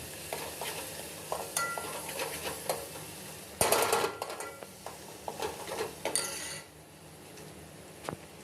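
Onion, green chili and ginger garlic paste fry in a pan for chicken curry: a soft sizzle under repeated scraping stirs and sharp metal clinks of a spoon against the pan, with no talking.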